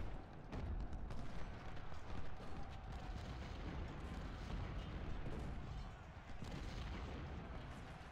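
Continuous musket volleys and artillery fire from a Civil War battle at Fredericksburg in Ultimate General: Civil War, a dense, rumbling roar of distant gunfire with no distinct individual shots, steady throughout.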